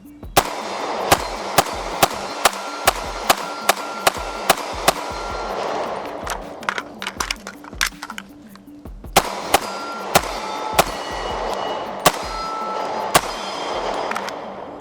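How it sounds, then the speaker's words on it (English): A 300 Blackout carbine with a 7.5-inch barrel and an ASR brake fires unsuppressed subsonic rounds as a rapid string of sharp, loud cracks at an outdoor range, with a brief pause midway and a steady background hum. "I'm running them without the suppressor."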